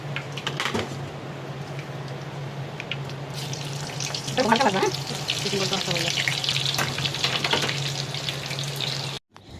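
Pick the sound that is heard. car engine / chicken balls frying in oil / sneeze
chicken balls frying in oil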